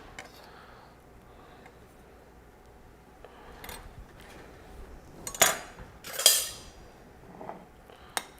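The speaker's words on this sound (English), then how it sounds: "what I'm doing here is just mixing it up so it's combined. Kind of like mashing it up a little bit" Bananas are mashed and mixed into chocolate pudding in a bowl, with quiet scraping and a couple of louder clinks and scrapes of a utensil against the bowl near the end; no talking.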